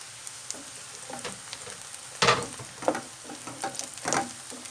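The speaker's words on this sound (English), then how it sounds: "we now add in our chopped up carrots" Chopped carrots dropped into a pan with softened onions for a vegetarian dried bean dish, an irregular sizzle with bursts of crackling as they hit the oil and are stirred, close up with no talk.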